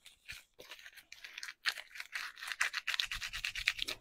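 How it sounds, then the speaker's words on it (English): Tape peeled off a glass mason jar being painted as a snowman luminary gives close, crackling tearing bursts that grow denser and more rapid toward the end, with no talking. "And then I'm just going to take that tape off of there."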